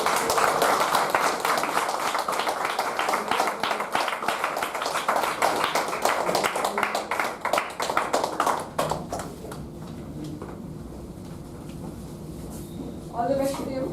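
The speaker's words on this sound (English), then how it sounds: "I request all of you to get up and applaud for them" Audience at a speaking club meeting claps steadily and fairly loudly for about eight seconds, then the applause fades and a voice talks over a quieter room.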